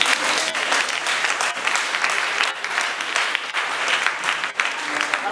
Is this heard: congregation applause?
yes